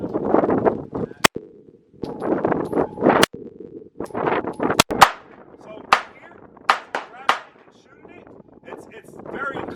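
A handgun with a red dot sight and heavy recoil fires at a shooting range. Sharp, loud reports crack out one after another with uneven gaps, mixed with voices talking nearby.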